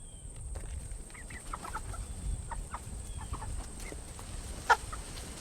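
Chickens at a coop cluck and chatter in scattered short calls over a steady hum of ambient noise, with one sharper squawk standing out near the end.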